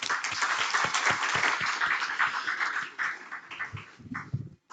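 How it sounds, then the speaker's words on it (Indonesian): Applause from a community gathering of gambus players in Lombok, a dense crowd of clapping that holds steady, then thins into scattered claps and fades out. "Tepuk tangan."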